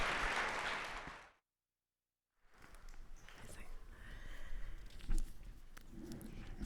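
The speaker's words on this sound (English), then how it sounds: "So can we get them a round of applause?" A school audience applauds graduating students in a short burst of clapping that cuts off abruptly into silence, followed by faint room noise and shuffling.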